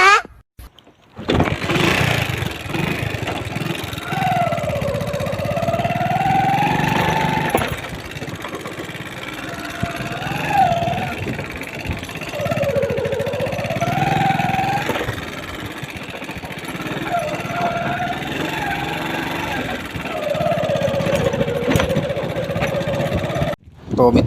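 Motorcycle engine while riding along a road, a loud steady motor drone with rising and falling revs in several repeated swells, close throughout, with no talk.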